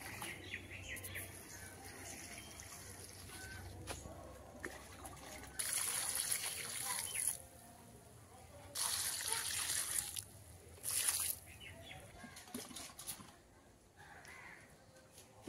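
Water is poured onto an outdoor garden bed ahead of planting onions, arriving in three separate gushing, splashing spurts of a few seconds each against a quiet rural background with faint birds.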